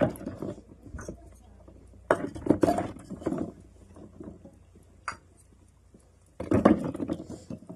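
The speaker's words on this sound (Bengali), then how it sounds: "এবারে বাটিগুলো একে একে ধুয়ে নেব।" Clay plates and bowls being washed one by one clink and knock together in short close bursts, with splashing water and pauses between.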